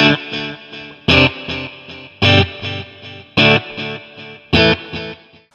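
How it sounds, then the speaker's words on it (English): An electric guitar through a Boss Katana Gen 3 amp plays repeating chords with a delay effect, each strum echoing in fading repeats between the louder hits. "Then there's obviously delay as well."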